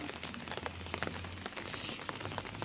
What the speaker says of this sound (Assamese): বহুত বৰষুণ দি আছে, বহুত দিনৰ মূৰত বৰষুণ দিছে